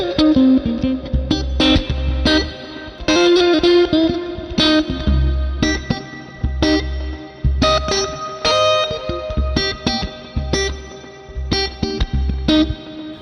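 An effected electric guitar plays a slow, rhythmic shuffle pattern with muted strums and a low bass pulse, drenched in chorus and distortion.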